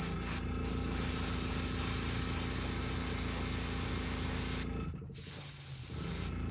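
An airbrush sprays paint in a steady close hiss, with a brief break near the start and a clear gap just before the end, then resuming.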